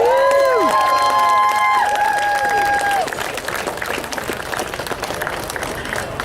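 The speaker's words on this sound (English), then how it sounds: "let's give a round of applause to the Lancaster engine crew" At a night run of the Nanton Lancaster bomber, a crowd applauds the engine crew. Sliding whistling tones fade out early, then broad clapping with some cheering carries on as a steady mid-level crowd wash.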